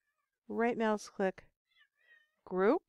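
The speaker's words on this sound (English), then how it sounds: "that was just my cat talking to me." A house cat gives two short meows near the end, after a voice and a stretch of quiet indoors.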